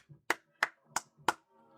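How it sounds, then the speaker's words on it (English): Four sharp hand claps in an even rhythm, fairly close and moderately loud, with faint low murmuring between them and no other sounds. "Giving you the claps for that."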